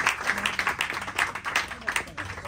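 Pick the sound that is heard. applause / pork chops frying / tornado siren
applause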